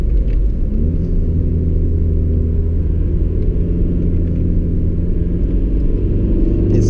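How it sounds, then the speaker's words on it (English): Inside an old Audi A3 1.9 TDI 8L on winter tires while driving, a constant loud, low diesel drone and road rumble, steady and close with no voices. "It's noisy inside. It's an old car, you know."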